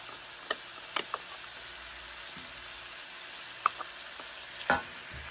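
Seafood with crab meat and tomato paste stirred in a frying pan, a steady sizzle broken by scattered clacks and scrapes of the utensil against the pan.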